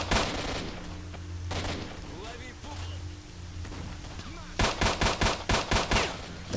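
Gunfire in S.T.A.L.K.E.R. Shadow of Chernobyl: a few scattered shots early on, then a rapid burst of about seven loud evenly spaced shots near the end, over a low ambient game hum.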